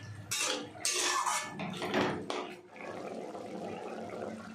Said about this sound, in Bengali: এবার অল্প জল দেব।